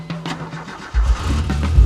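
A car engine cranks briefly and then catches, settling into a close, loud, low rumble.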